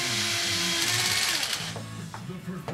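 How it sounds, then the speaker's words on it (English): A cordless drill driver runs fasteners in during a budget Jeep JK build, with a whirring motor burst followed by a few shorter pulses and light clicks. "a good cordless drill driver when you're running in all these fasteners"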